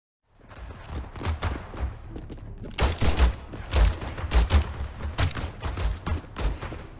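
Layered video game gunfire from many players, close and distant shots blending into a dense, continuous fusillade of rapid cracks and booms that starts abruptly and keeps rolling without pause.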